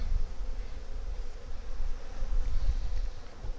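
Bees in a healthy hive opened for a colony inspection give a steady low buzzing drone that holds evenly from start to finish, with no voices over it.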